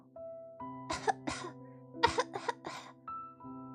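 Game sound of a sudden coughing fit in the visual novel Scarlet Hunt: two clusters of harsh coughs, a pair and then three in a row, heard close over a soft, steady musical hum.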